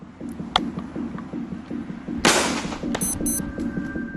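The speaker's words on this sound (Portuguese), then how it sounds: "Vamos começar pela primeira salva de tiros." Soldiers' rifles fire a first volley in a reenactment of Lakota and cavalry firepower. One sharp, loud crack comes mid-clip over a steady low throbbing background, with a faint click earlier.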